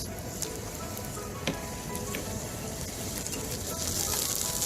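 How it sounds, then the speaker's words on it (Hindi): Onions frying in a pan at a lakeside cooking spot, a steady close sizzle with faint crackles and occasional sharp ticks, a voice talking softly underneath. "अभी ये प्याज बन रहे हैं"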